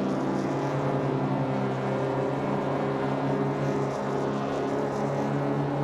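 Daihatsu Sigra engine roaring in the Assetto Corsa driving game, a loud, steady, droning tone held at high revs without pause.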